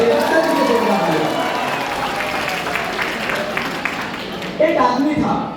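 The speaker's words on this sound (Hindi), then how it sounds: "आप लोगों ने इतना समय दिया, मैं चाहता हूं एक बार जोरदार तालियां।" A seminar audience in Butwal, Nepal breaks into applause, a dense, sustained clapping from a crowd that tapers slightly and surges again near the end, with voices mixed in.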